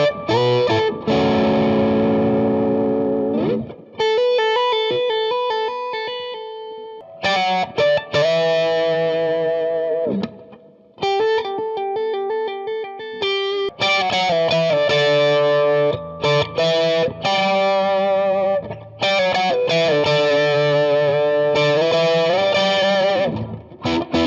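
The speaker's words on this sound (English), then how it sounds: "just a little bit of Ocean's 11 reverb." Electric guitar, a limited-edition Fender Stratocaster, playing chords and single-note lines with a spacious reverb tail, loud and continuous, with brief pauses between phrases.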